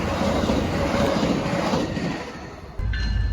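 An Amtrak passenger train with Charger locomotives rolls past near Tampa, a close, loud rumble with rail clatter and faint wheel squeal that drops away briefly before a heavy low burst returns.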